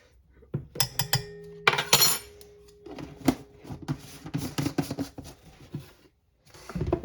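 A fork clinks and scrapes against a bowl while baking ingredients are mixed, giving irregular bursts of metallic tapping and clattering with brief pauses in between.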